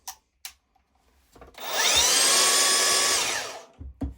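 A Hercules 20V brushless cordless band saw spins up at speed setting 6 and runs for about two seconds, a close, even whirring hum, with a few clicks and knocks before and after.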